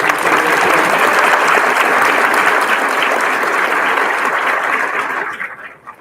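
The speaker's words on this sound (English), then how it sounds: "Can we once again have a round of applause for all the students who received the Content Award today?" Loud, sustained audience applause at an 8th grade graduation ceremony, a dense wash of many hands clapping steadily for about five seconds before tapering off quickly at the end.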